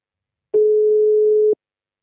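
A single steady telephone tone lasts about one second on an otherwise silent line, starting and ending sharply, like a ringback beep while a call is being placed.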